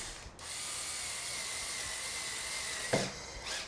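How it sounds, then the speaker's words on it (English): A power driver whirs steadily as screws go into the pickguard of a Fender American Standard Stratocaster, a continuous close mechanical buzz with a short click at the start and near the end. "We're gonna put the screws in their position"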